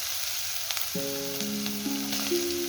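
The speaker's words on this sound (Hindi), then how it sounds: "उसके बाद आपने ऐड करना है हरी मिर्चें, जो कि यहाँ पर 2 अदद हैं" Freshly chopped green chillies frying in a pan for chilli chicken, a steady close sizzle with light crackles, overlaid after a second by a sustained electronic-sounding multi-tone hum.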